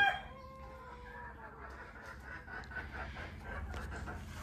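Desi free-range chickens cluck and a rooster crows over a steady low hum on a poultry farm, with busy overlapping fowl calls throughout.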